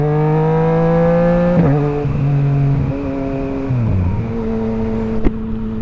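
A 2018 Yamaha MT09 motorcycle fitted with a Black Widow exhaust pulls away, rising through several gears in repeated revving climbs with short dips at each shift. The exhaust is close and loud.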